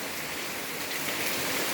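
Soft, steady hiss of rain falling with rainwater running off and draining away, a faint continuous wash with no voices.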